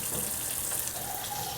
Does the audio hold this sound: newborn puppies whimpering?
no